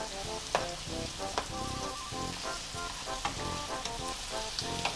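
Kobe beef and vegetables stir frying in teriyaki sauce in a hot pan, giving a loud, continuous close sizzle and crackle with occasional pops and soft stirring scrapes, no talking.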